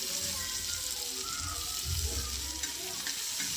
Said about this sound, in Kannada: ಸ್ವಲ್ಪ ಎಣ್ಣೆ ಹಾಕಿ ತವಾ ಒಳಗೆ ಹಾಕಿಬಿಟ್ಟು ಆನಿಯನ್ನ ಹುರಿಬೇಕು ಬ್ರೌನ್ ಕಲರ್